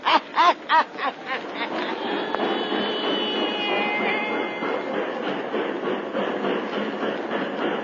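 Train sound effect at a small country railway depot in a 1933 radio horror drama: a steady rumbling rush with faint whistle-like tones, preceded by a few brief voice bursts at the start.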